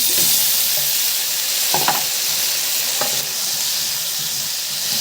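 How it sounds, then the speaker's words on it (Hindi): Potatoes with cumin and tomatoes frying in a pan, a loud steady sizzle that fills the whole clip, with a few brief stirring scrapes, close up and no speech. "आलू फ्राई हो रहे हैं अच्छे से।"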